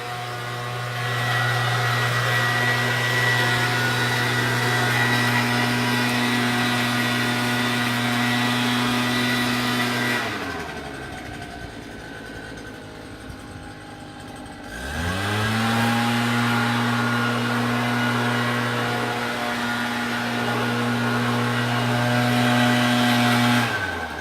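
A small gas-powered weed blower runs outside on a patio, a loud steady droning whine that drops away for a few seconds and then revs back up to full; no one speaks.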